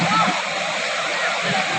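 A strong, fast-flowing stream of flood water during heavy rain, a steady broadband rushing and splashing that holds close and loud for the whole stretch, with no break or change in force.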